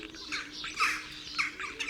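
A starling imitates a jackdaw with a run of harsh, scratchy squawks and chatter, faint but continuous over a low background hum, with no voices.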